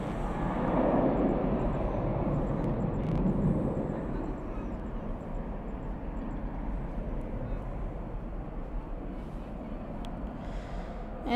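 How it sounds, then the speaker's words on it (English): An American Eagle Embraer E175 jet flown by Envoy Air arrives at Dallas/Fort Worth airport at night, heard as a steady, broad engine roar that swells early and then holds at a slightly lower level. "Next arrival is American Eagle, operated by Envoy Air,"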